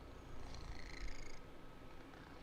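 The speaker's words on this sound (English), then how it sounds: "Can you hear him? He's got the best purr." A male cat purrs softly and close by, a low, rhythmic rumble that swells briefly before fading back to a faint hum.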